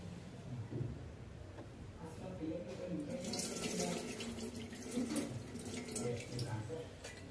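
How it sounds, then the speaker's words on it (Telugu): Chana dal is rinsed under a running kitchen tap for a jaggery payasam, a steady close splash of water into a vessel that swells and sloshes as the lentils are stirred, with no talking. "ఒకసారి వాష్ చేసేసుకుంటాను, కడిగేద్దాం"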